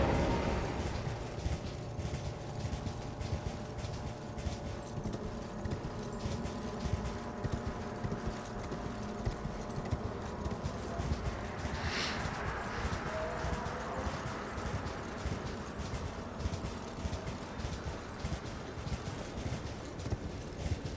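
Video game horse hooves pound in a fast, continuous galloping rhythm with heavy rumbling movement noise throughout, loud and steady with a brief higher whoosh midway.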